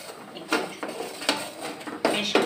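Dry puffed rice rustles and scrapes in a pan as it is stirred by hand, with irregular light clatters and swishes every half second or so at close range.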